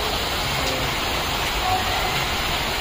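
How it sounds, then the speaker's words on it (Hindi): Heavy rain pours down, with water running off a house roof in a dense, constant hiss that fills the whole stretch, steady and close with no voices. "बहुत तेज बारिश हो रही है"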